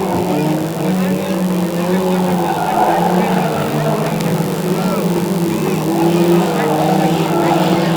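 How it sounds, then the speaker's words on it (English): Junior banger race cars roaring around the Cowdenbeath Racewall oval, a continuous loud wash of engines and tyre scrub with crowd noise mixed in throughout. "manages to keep the car out of the race wall"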